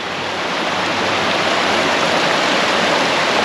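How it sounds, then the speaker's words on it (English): River water flowing beneath a covered bridge in southern New Hampshire, a loud, steady broadband rush with no breaks, close and alone. "And all the water that runs through here every day."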